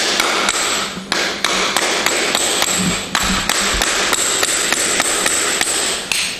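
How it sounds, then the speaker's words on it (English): Rapid, steady hammer blows ring out close by, a continuous run of sharp metallic strikes as horseshoe nails are clinched over while shoeing a horse's hind foot. "And then hammer clinch this way."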